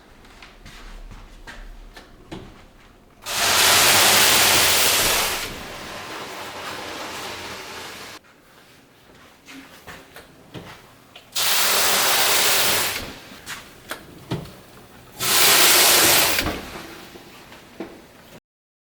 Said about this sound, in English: And I add steam to this.